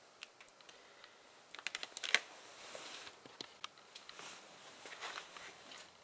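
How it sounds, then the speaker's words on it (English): A spraycasso tool scratches through a clear coat in a series of small, close, dry scraping ticks, with an irregular cluster in the middle and quieter scraping after it. "with the spraycasso tool, I'm just gonna come down, make a scratch"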